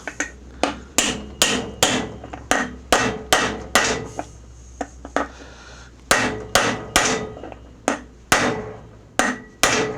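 Sharp, repeated hammer blows drive new front wheel bushings into a John Deere E130 lawn tractor. The strikes come close and loud in quick bursts, with brief pauses between sets.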